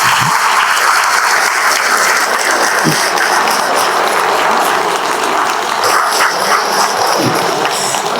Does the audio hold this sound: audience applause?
yes